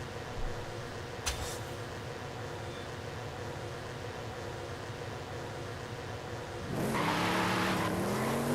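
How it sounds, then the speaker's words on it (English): A Lamborghini Murcielago in a video game, a sharp click early on, then a steady engine drone that swells near the end as the car speeds past with a rising, close roar. "Someone in a Lamborghini Murcielago just went over there trying to get positioning"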